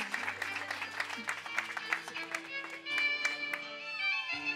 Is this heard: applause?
yes